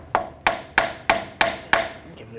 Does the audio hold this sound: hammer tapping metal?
yes